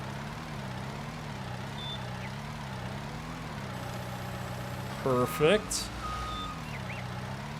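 Bobcat skid steer in Farming Simulator, its engine droning steadily with reversing beeps chirping over it and a short clunk of handling near the end; a voice speaks briefly.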